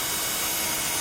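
Drill boring a hole into an aluminium intake manifold, a loud continuous broadband grinding whine that is steady and close throughout.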